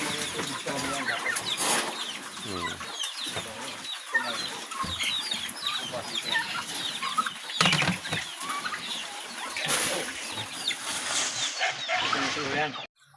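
Pet chickens cluck and flap about while being fed on a farm, busy clucks and wing flutters close by, with people talking over them and a dog audible now and then.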